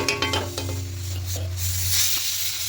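Chana masala fries in a pan while a spoon stirs and scrapes it, a few clinks against the metal over a steady close sizzle and low hum, with no talk.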